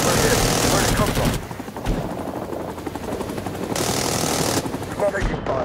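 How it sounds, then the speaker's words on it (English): Rising Storm 2: Vietnam machine-gun fire rattles in steady rapid bursts around a Huey helicopter, mixed with its rotor and engine drone. Speech can be heard over the noise. "We're taking fire."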